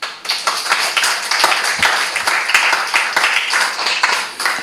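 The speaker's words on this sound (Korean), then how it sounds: "괴롭히겠다니까 박수들을 치고." Students applauding in a university lecture hall at the start of a biology class, a dense, lively burst of many hands clapping close up for several seconds.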